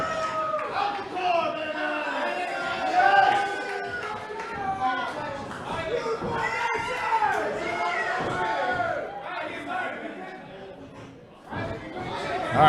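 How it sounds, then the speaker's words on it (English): A wrestling crowd at a Tier 1 Wrestling match between Rude Boy Riley and Matt Macintosh chants and shouts in a loud, sustained roar of many overlapping voices, with a few sharp bangs and swells along the way. "They're just going to listen to them chant"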